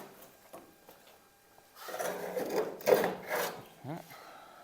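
Pry bar working loose the remnant of a rusted outer sill panel on an HZ Holden Kingswood, giving scraping, rasping metal rubs that grow louder midway with a few sharper creaks, close up, with a voice briefly heard.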